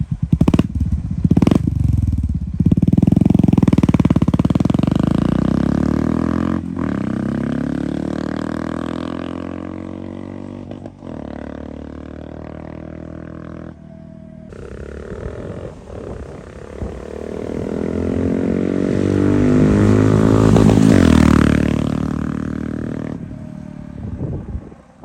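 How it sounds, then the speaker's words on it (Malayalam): A Honda CB350 with a Silver Stallion performance exhaust running without its dB killer revs up repeatedly, a loud deep bassy rumble rising and falling, with a long swelling roar near the end, close by, no talking. "DB കില്ലർ ഇല്ലാതെ സിൽവർ സ്റ്റാലിൻ്റെ സൗണ്ട് എങ്ങനെയാണെന്നുള്ളത് ഞാനൊരു വീഡിയോ എടുത്ത് വെച്ചിട്ടുണ്ടായിരുന്നു"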